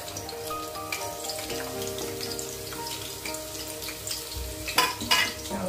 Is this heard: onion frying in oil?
yes